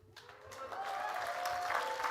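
Applause from an audience at an athletics Hall of Fame induction ceremony, a steady wash of clapping that swells slightly and holds through the moment, with no speech over it.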